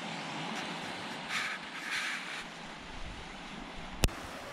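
Soft, steady wash of surf rolling onto the shore at Costa de la Calma, with a faint breeze and a brief sharp click near the end.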